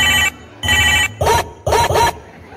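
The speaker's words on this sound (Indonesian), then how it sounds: "Dede yang sedang di LabLeak mendapatkan telepon dari Pina." A telephone rings loudly and close in repeated electronic bursts, two long pulses followed by shorter paired trills with brief gaps between them, with no voices over it.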